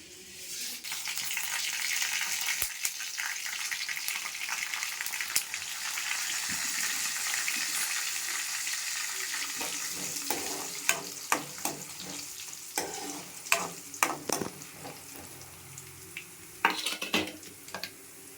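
Coriander, cumin and fenugreek seeds fry in hot oil in a kadai with a steady loud sizzle, joined later by repeated sharp scrapes and clinks of a metal spoon stirring against the pan.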